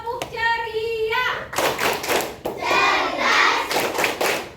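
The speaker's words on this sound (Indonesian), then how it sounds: "mari kita tepuk ceria" A class of children claps out a cheerful rhythmic classroom chant, tepuk ceria, with sharp bursts of claps and young voices chanting together, loud and close in a school lesson setting.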